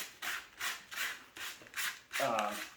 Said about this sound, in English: So I am going to spend 5 minutes sanding on this thing.